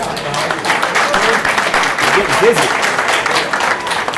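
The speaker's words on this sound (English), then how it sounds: "can we have a round of applause" Audience applause at a community discussion meeting about a youth services center, a steady wash of clapping from a crowd with voices talking briefly over it.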